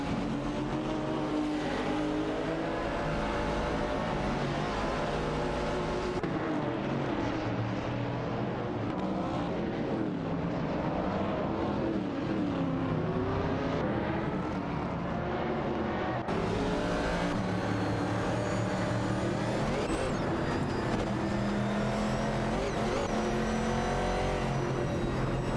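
Race cars in an AI racing game scream around the track continuously, several engines droning and shifting pitch as they jockey for position, loud and steady with no talk.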